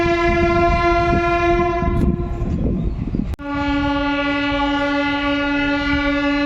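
A loud, steady train horn blares close by over the rumble of a moving Azimganj–Rampurhat express passenger train near Azimganj, with a brief dip and a sharp click near the middle.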